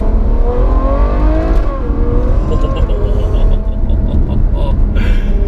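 Close, continuous rumble of a Ferrari GTC4Lusso V12 revving and pulling, pitch climbing and falling through gear changes, loud and steady throughout with no speech over it.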